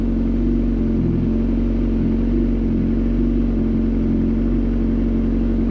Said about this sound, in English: So you gotta sit on your bike with the engine running idle and clutch pulled.